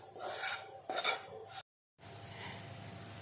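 A spoon scrapes and stirs a spice mix of turmeric, Kashmiri red chili powder and salt in a pan for restaurant-style boiler chicken. Steady rubbing and clinking strokes run close, stop for a short silent gap, then resume.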